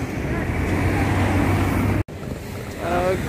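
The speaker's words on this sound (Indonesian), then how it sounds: "Sekarang kita tengah berada di Selat Bosporus, pinggiran sungai Selat." A boat moves on the Bosphorus Strait in Istanbul, its steady engine rumble mixed with wash of waves and heavy wind buffeting the microphone, continuous and loud with one brief dropout.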